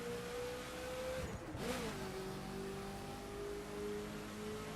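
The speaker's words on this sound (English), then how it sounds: "Do like the engine noise." A Mazda car engine in the racing video game The Crew, a steady synthetic-sounding engine tone that briefly dips and rises as the revs shift, heard alone at low level.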